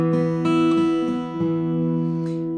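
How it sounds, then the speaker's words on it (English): A guitar is fingerpicked in a rolling thumb, index, middle, ring, middle, index pattern, with bright notes overlapping and ringing close and clear. Several picked attacks fall through the phrase, then the strings sustain and fade, and no voices are heard. "One of the most popular is the thumb, index, middle, ring, middle, index"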